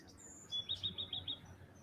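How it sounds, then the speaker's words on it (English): Birds sing outdoors, with a faint high whistle followed by a quick run of about five repeated chirps at moderate distance over quiet background hum. "the song behind me is just melting me right now. I love the birds."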